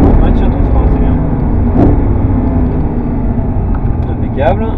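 Audi R8 V10 braking hard on the Castellet race circuit, heard from inside as a loud, steady engine drone with road roar that eases slightly as the car slows, while a coach talks over it.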